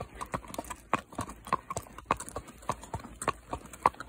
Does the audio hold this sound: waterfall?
no